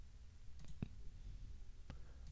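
A few sharp, isolated mouse clicks sound over a low steady hum, spaced irregularly as a surface such as birch bark is picked in Quixel Bridge for an Unreal Engine 5 material.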